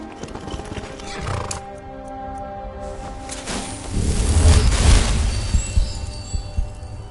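A horse in Skyrim whinnies and snorts close by, followed by heavier rumbling movement and hoof sounds, with no talking.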